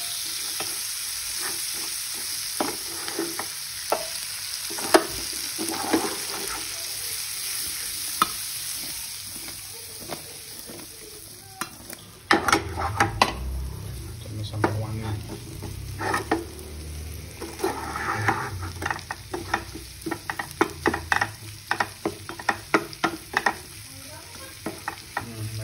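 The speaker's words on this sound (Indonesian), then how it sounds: "Kita tumis." Scallion whites, chili and garlic stir-fried in a wok of leftover shrimp-frying oil for butter shrimp, with steady close sizzling and repeated scraping spatula strokes that grow louder and busier after the ingredients settle in.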